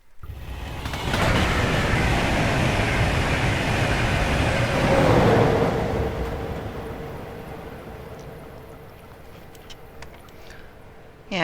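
In Train Simulator 2017, on the Welwyn Garden City to London Kings Cross route with a Class 313, another train passes as a broad, loud rushing rumble that swells, then fades slowly into a steady hum.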